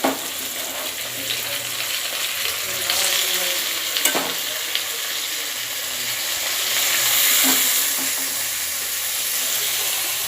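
Mushrooms frying in a pan with onion, garlic and tomato give off a steady sizzle, broken by a few sharper clinks and scrapes as the mix is stirred, with no talking.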